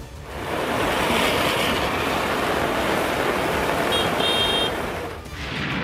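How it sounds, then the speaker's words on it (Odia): Strong storm wind and surging sea waves on the coast of Kendrapara district, Odisha, during a cyclonic storm: a continuous loud roar of gusting wind and crashing surf that holds steady for several seconds, then eases briefly near the end. "ପବନ ବି ଧୀରେ ଧୀରେ ବଢ଼ୁଛି ପାଣି ବି ମାଡ଼ି ଆସୁଛି"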